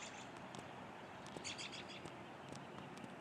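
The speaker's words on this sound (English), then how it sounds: "Not a lot of birds to be seen, but definitely heard." Birds chirping outdoors in early morning, scattered faint tweets and calls from several birds against a quiet steady background hiss.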